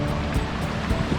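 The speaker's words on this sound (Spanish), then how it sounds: "ya se escucha el agua" Water rushes steadily at Las Toscas in Sot de Chera, a loud, continuous close-up wash of flowing water with no pauses and no voices.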